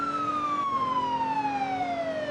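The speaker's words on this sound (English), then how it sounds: "we got the new whale siren" A wailing police siren in the Roblox game ER:LC, the new whale tone, sweeps in a steady, slowly falling electronic wail, loud and continuous with no talk over it.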